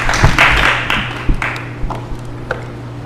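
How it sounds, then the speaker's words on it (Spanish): Scattered clapping from a small audience, loud at first and then thinning out into a few separate claps. "un aplauso para él"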